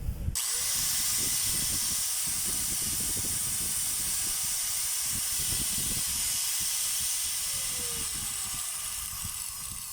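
An electric motor runs smoothly after its 607 bearing was replaced, a steady close whir and hiss with faint rumbling underneath, no voices.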